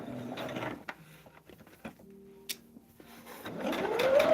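A sewing machine stitches fabric for a star-patterned table runner. Quick mechanical whirring bursts open and close the clip, with quieter clicks, ticks and a brief hum between them, all heard close up with no talking.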